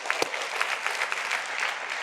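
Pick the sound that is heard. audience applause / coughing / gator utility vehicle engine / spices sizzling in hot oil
audience applause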